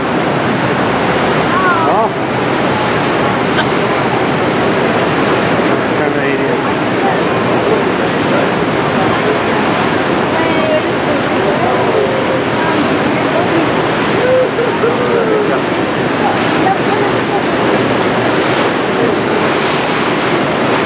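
Niagara Falls roars steadily and loudly, a dense rushing wash of water that never lets up, with wind buffeting the microphone.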